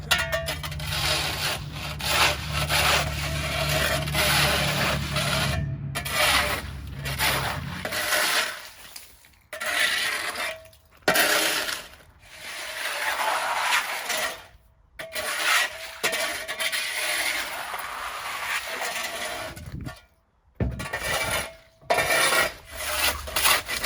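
A scraper rasps across ground ice beside a van in a February thaw, with long harsh grinding strokes that go on continuously, broken by brief pauses, loud and close, with no voices.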